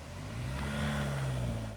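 A welders' utility vehicle drives up to a rural water tower on a former collective farm, its engine a steady mid-pitched drone with a low hum that holds evenly throughout, close by and with no talking.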